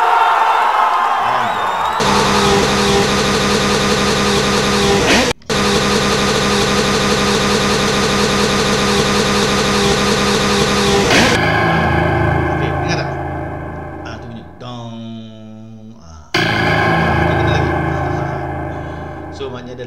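Car racing sound effects play in a Scratch racing game: a loud, buzzy engine drone that keeps going, cuts out briefly, changes to a different revving tone, then fades and comes back, with speech mixed in.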